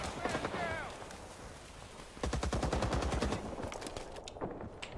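Enemy gunfire in the multiplayer shooter Rising Storm: Vietnam, a busy fusillade of rapid shots mixed with battlefield noise, growing denser in the middle, with a voice speaking over it.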